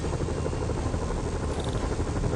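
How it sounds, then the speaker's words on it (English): A helicopter in the Spider-Man video game gives a steady, loud rotor drone that fills the whole stretch without a break and with no voices. "Bet I can use those helicopters to swing."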